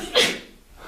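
A single short, breathy sneeze bursts out close by, then quickly fades.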